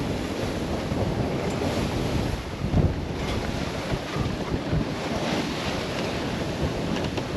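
Choppy Mediterranean sea slapping hard against a sailboat beating close-hauled in strong wind, with steady loud wind rush on the microphone and repeated splashing thuds of waves against the hull throughout.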